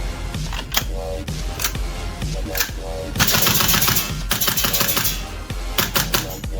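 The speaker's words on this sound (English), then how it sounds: "For this test, we'll be using one of our instructor's rifle, Estelle's futuristic GHK M4 build." A GHK M4 airsoft rifle fires rapid clattering bursts up close, sharp mechanical snaps in quick strings with short pauses between, growing denser toward the middle, with no talk over it.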